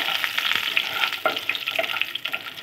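Mustard seeds crackle and pop in hot oil in a village kitchen while banana roast is being made, a steady close sizzle scattered with small sharp spits, with no voices.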